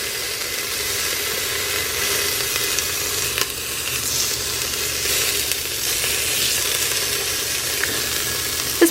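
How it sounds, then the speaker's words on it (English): Salt-and-pepper-coated short ribs browning in a hot pan, a steady close sizzle and hiss of frying fat that holds without a break. "So we finally have our short ribs brown."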